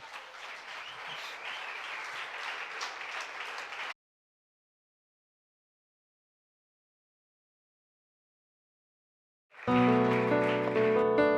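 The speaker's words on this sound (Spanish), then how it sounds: "Regalemos un aplauso enorme al Señor." A church congregation at a live Sunday service applauds with dense, sustained clapping for about four seconds. A long silence follows, then loud music with sustained tones comes in.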